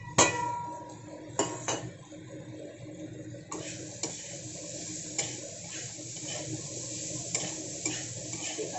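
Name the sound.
green chilli, tomato and onion added to the pan and stirred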